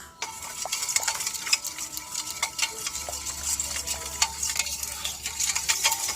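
A spoon stirs a homemade cockroach-killer mixture of vinegar, scraping and clinking steadily against the container for several seconds with no talking.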